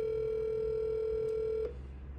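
A steady telephone tone sounds for about 1.7 seconds on an outgoing call, then cuts off and leaves faint line noise.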